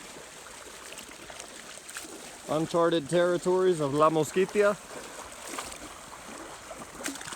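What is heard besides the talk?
crossing a river in the jungle of La Mosquitia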